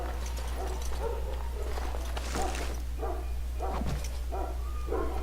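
A dog in the video game Dragon Age: Origins barks several times in short bursts over a steady low hum, with faint clattering sounds mixed in.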